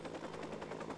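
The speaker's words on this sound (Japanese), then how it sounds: "またヘリ来てんな。" A helicopter in the Watch Dogs video game gives off a steady, fast rotor chop, moderately distant and fairly faint. It lasts about a second, with no talking.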